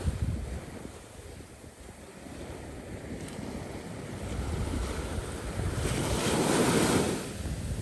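Ocean waves washing onto a beach, a continuous soft roar of surf with wind rumble, swelling louder toward the end, no voices.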